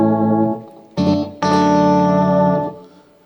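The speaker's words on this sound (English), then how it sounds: "got the boost on" Electric guitar with boost engaged through a Blug Stereo amp with a Mooer Ocean Machine, a sustained note, a short chord stab and then a long ringing chord that decays, loud and close.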